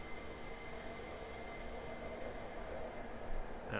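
A Class 158 diesel train in Train Simulator 2022, running on the North Wales Coast Line, squeals its wheels around a curve with a sustained high metallic whine over a low rolling rumble, and no one speaks.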